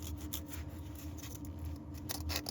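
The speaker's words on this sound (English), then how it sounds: "I'm taking it and cleaning off the surface where the new seal is gonna go. Getting all this crud off so we get a good seal." A plastic razor blade scrapes crud off an aluminum sealing surface during a Chevy Colorado water pump replacement, giving quiet, repeated short rasping strokes close up.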